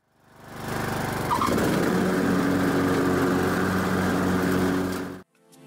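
Craftsman T110 riding lawn mower with a 17.5-HP engine and 42-inch deck, running steadily and loudly as its mowing blades engage, a thick continuous engine drone that swells after a short ramp-up and cuts off abruptly near the end.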